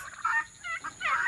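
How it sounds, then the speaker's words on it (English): Turkeys gobbling in a farm run kept near goats, several short rattling gobbles in quick succession, fairly close and clear with no talk. "Yeah, the turkeys are over here."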